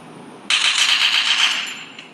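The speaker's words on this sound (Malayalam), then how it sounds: "ആരോ വെടി വെക്കുന്നുണ്ട്" Gunfire from an unseen shooter near a house, a sudden loud crackling burst that runs for about a second and a half before fading, with no talk over it.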